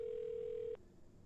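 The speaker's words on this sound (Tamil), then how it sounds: "இருங்க, போலீஸ் ஃபோன் அடிப்போம்" A steady telephone dial tone plays in a video game while calling the police, holding for under a second before cutting off, leaving faint background hiss.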